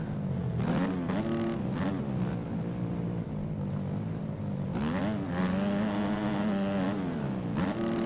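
450cc motocross bike engines in the MX Bikes racing game drone and rev in waves, several bikes rising and falling in pitch as they pass, loud and continuous with no talk.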